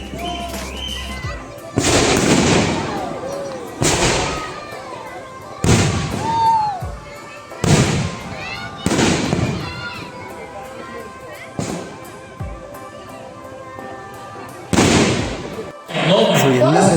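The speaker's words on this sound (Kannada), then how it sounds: "ಬಾನಿನಲ್ಲಿ ಎಷ್ಟು ಸುಂದರವಾಗಿ ಪಟಾಕಿಗಳ ಚಿತ್ತಾರ ಬರ್ತಾ ಇದೆ ಅಂತ" New Year fireworks at a resort celebration, loud booming bursts roughly every two seconds with crackling and whistling trails, close and echoing, with people talking in the background.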